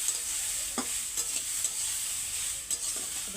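Small fish are added to a pan of vegetable stems for a Bengali chorchori, sizzling with a steady, fairly soft frying hiss broken by a few light scrapes and knocks of stirring.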